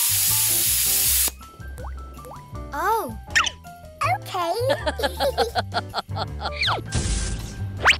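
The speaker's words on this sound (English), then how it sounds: "Spray water to remove all soap." Short bursts of hissing water spray come and go amid cartoonish music and sound effects, with a voice talking over it.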